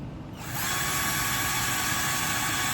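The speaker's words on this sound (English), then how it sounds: "So I'll drill a small hole in the wood." A cordless screwdriver from a small tool set spins up after a brief quiet moment and holds a steady, close whine as it drills a small hole in wood.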